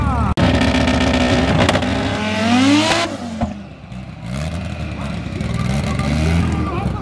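Drag race cars launching from the start line at a Brazilian drag racing event, engines roaring loud and close with rising revs and whining pitch sweeps, a sharp crack near the start, with crowd noise and voices throughout.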